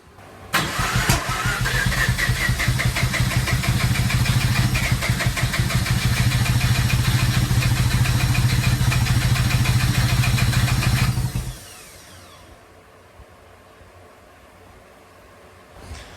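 Mazda RX8 turbo rotary engine cranking and trying to start, a loud, rapid, rhythmic starter churn lasting about eleven seconds, then cutting off to quiet background.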